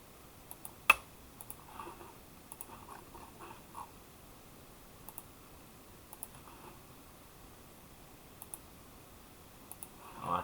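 Sparse computer mouse clicks and light keyboard taps while editing a laser-cut design, quiet isolated clicks scattered across a near-silent room, with one sharper click early and a few faint taps later.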